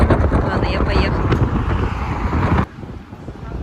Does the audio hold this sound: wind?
yes